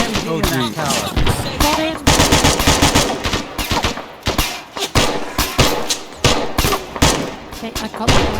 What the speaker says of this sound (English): That's an MG in that tower.